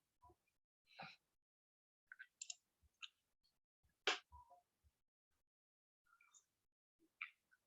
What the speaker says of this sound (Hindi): इसको मैं क्लिक करता हूं।